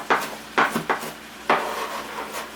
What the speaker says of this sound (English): we're just going to chop and chop